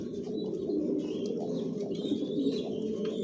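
Racing pigeons of a long-distance Janssen line cooing in a loft, a steady low murmur of overlapping coos with occasional faint chirps, close and continuous throughout.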